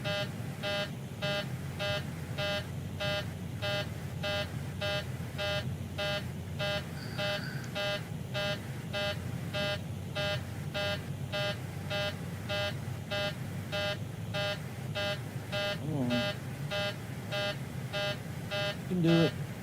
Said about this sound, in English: that beep's annoying